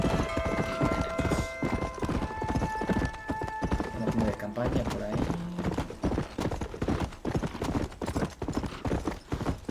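Horse hooves clip-clop in a fast gallop across open ground in Red Dead Redemption, a steady rhythmic pounding with tones of game music underneath and someone speaking Spanish over it.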